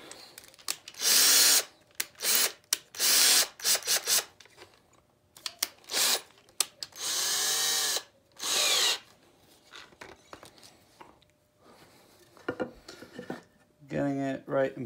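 A power drill running in short, loud bursts while working on a wooden greenwood carving bench. Each whir is separated by quiet gaps and softer handling noises, ending with rapid clicking.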